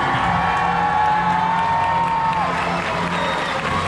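At a medieval dinner-and-tournament show in Dallas, Texas, a big arena crowd roars and cheers loudly and continuously for a lord and his stallion, with scattered clapping mixed in.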